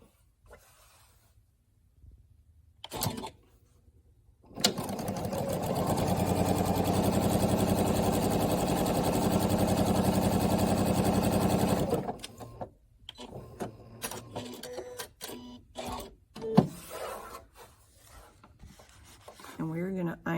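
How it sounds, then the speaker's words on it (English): Domestic sewing machine stitching a quilt 4-patch to a large orange square for a Speckled Hope quilt block, running steadily and close for about seven seconds, with quieter handling clicks before and after. "Then we're going to take our 4-patch and we are going to sew it to a large orange"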